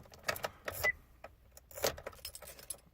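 Keys jangle and click in the ignition of a GM Suburban as the key is turned to the on position, a few short metallic rattles in a quiet cabin with no engine start.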